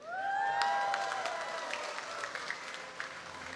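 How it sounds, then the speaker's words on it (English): An audience applauds for Othman and the team at a live global premiere event, a steady wash of clapping with scattered sharper claps that fades gradually, beneath a fading musical tone at the start. "Another big round of applause for Othman and the team, ladies and gentlemen."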